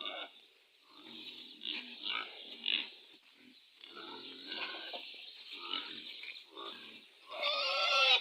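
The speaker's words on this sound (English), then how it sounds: "these are my pigs" Two female pigs grunt in an African village garden, a series of low rough grunts and snorts in irregular bursts, fairly close, with a louder squeal-like burst near the end.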